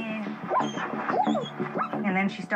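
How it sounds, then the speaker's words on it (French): A dog whimpers and whines in high, wavering tones close by inside a 4x4, over a constant low rumble of the vehicle's engine. "Elle est tendue, elle va et vient, elle se met à couiner."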